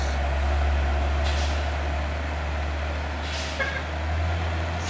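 An orange 6x2 220 PS truck straining up the steep Bukit Kodok climb: a loud, close, deep engine drone holds steady, with two brief hissing bursts that sound like air releases and a short high beep near the end.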